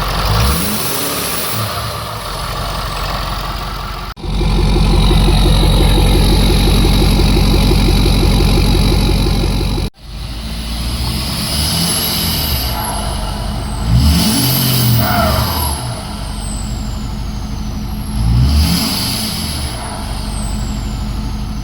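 A loud, close 6.7 Powerstroke diesel truck engine idles, then revs repeatedly in surges, with a high whine sweeping up and down as it climbs and drops.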